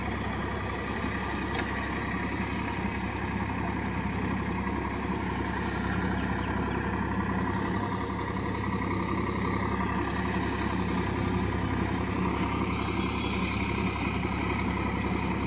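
A Swaraj 744 FE 4WD tractor engine runs steadily nearby in farmland, a continuous low, rumbling drone that holds even throughout with no voices.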